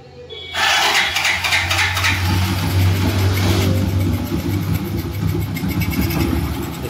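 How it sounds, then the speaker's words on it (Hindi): A motorcycle engine, set up to drive a car-washer pump, starts abruptly and then settles into a close, steady idle with a loud, continuous mid-pitched drone and some metallic rattle. "तो चलिए सबसे पहले बाइक के इंजन को स्टार्ट करेंगे।"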